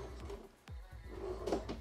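A drawer in the rear kitchen of a 2022 East to West Della Terra 291RK travel trailer slides and thuds shut at close range, with a few softer knocks and rattles around it, in a quiet room.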